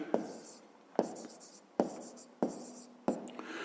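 A pen scratches out numbers on paper while a fifth-grade math exercise is solved, with four or five sharp taps and short scribbled strokes spaced evenly across the clip, close and distinct.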